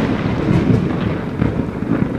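A thunderstorm with heavy rain at sea, where rough waves break over a boat, sounds as a loud, dense downpour roar with deep rolling thunder swelling in waves throughout.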